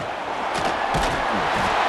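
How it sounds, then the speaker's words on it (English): A big stadium crowd roars throughout a College Football 26 game between Alabama and LSU, urging the defense on during a red zone stand, with a steady broad wash of noise swelling in waves. "here comes the noise. This crowd is trying to inspire this defense to make a big red zone stop."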